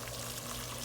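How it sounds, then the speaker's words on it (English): Water pours into a pot of spices cooking for a backyard Guyanese-style chicken curry, a brief steady splash close by with faint background hiss and no talking. "So I'm gonna add some water into here"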